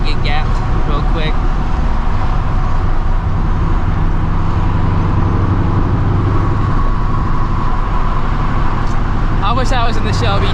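Straight-piped S650 Mustang GT exhaust drones loud and close from inside the car, a constant heavy engine roar with talk over it.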